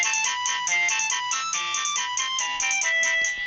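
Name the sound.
old phone ringtone playing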